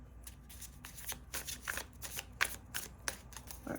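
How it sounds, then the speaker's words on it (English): Tarot cards being shuffled by hand during a card reading, a steady run of crisp riffling and slapping bursts, close and fairly quiet, with no voices. "Now I'm going to keep shuffling."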